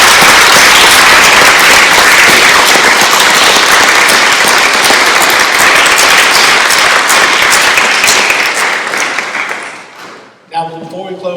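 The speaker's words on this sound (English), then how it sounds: "Will the audience please rise and give Eagle Scout Andrew Wicker a round of applause." Loud, dense applause from a standing audience at an Eagle Scout court of honor fills the room for about nine seconds, then tapers off quickly, leaving a few scattered claps and a brief voice.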